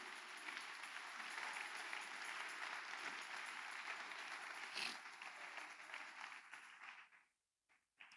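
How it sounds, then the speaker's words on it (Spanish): A church congregation claps and applauds in praise during a Lord's Supper service, a steady dense wash of many hands lasting about seven seconds before fading out abruptly near the end. "denle un aplauso al Señor Jesús"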